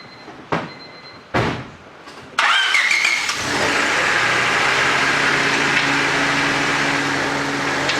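Car doors thump twice, then a 1997 Honda Civic fresh from a clutch replacement cranks and fires up, settling into a loud steady idle with a brief rev near the start.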